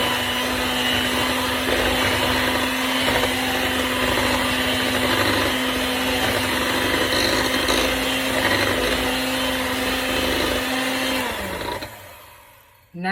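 Electric mixer blends rainbow cookie ingredients, including a grated one, in a steady, loud motorized whir that runs for about eleven seconds, then winds down and stops.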